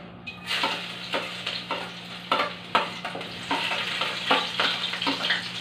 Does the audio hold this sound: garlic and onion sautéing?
yes